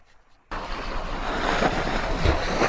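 Waves at the water's edge, a sudden wash of surf that breaks in after half a second of quiet and then rolls on steadily, loud and near, buffeted by wind noise with no voices.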